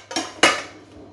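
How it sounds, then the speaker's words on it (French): A metal lid set onto a saucepan of salted water holding vegetables: two quick clinks close by, the second sharper and louder, with a short ring that fades out. "Je vais mettre un couvercle"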